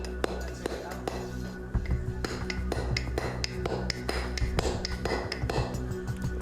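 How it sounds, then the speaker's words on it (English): Bronze chisel struck against hard stone in an ancient Egyptian stoneworking demonstration: a steady series of sharp metallic taps and clinks, close and distinct, over a constant low background hum. "Next, he tries a chisel made of bronze, a material used by the ancient Egyptians."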